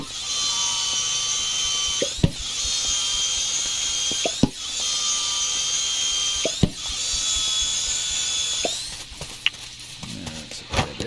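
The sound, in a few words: sawing planks at a sawmill in the video game Dinkum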